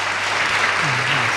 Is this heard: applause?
yes